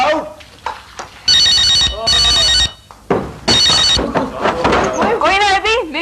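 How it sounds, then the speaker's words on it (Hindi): A telephone rings in loud, bright electronic bursts, two long rings then another, in a domestic scene. "मेरी अम्मी का फोन है"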